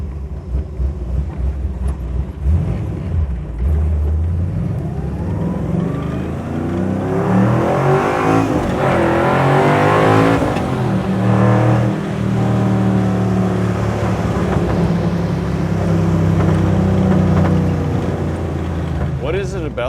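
A 1967 Chevrolet Nova's engine rumbles loud and close, then revs hard with a rising roar as the car pulls away, while someone talks beneath the engine noise.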